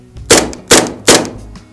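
Tokyo Marui Colt M1911A1 Government gas blowback airsoft pistol, plastic-bodied and weighted, fired three times at an even pace, each sharp close crack followed by a short decay.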